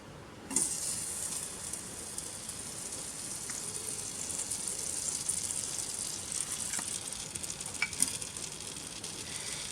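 Butter melting and sizzling in a heated pan, a steady bright frying hiss that starts abruptly and holds evenly throughout with a few faint crackles, close up and alone.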